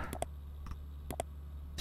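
Mouse clicks while playing the computer game KinitoPET, a few quiet paired clicks spaced apart over a low steady hum.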